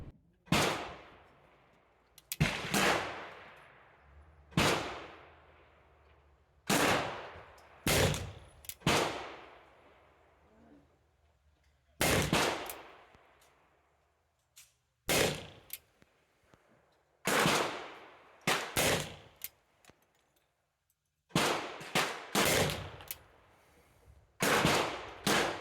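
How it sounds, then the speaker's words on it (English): Pietta 1851 Navy black powder revolver fired at a range, a dozen or so loud, sharp reports in irregular groups with echoing decay and quiet gaps between. "I wanted to kind of evaluate the mechanical reliability of the handgun"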